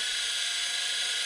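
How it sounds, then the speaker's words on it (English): A power drill drives screws into the sole of a rebuilt Allen Edmonds Strand walnut shoe, giving a steady, close, high-pitched whirring buzz that holds for just over a second before cutting off, with no talking over it. "I'm using a drill instead of trying to do hand tightening"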